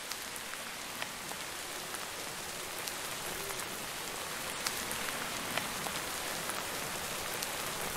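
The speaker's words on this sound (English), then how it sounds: "Now it is raining." Steady video game rain patters continuously on a surface, with scattered louder droplets ticking through an even wash of noise.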